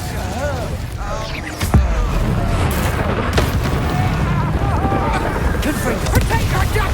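Booming blasts from the Confringo fire spell in a Harry Potter-style video game, a heavy impact near the start of a dense, continuous rumble of battle noise, with a voice casting spells over it.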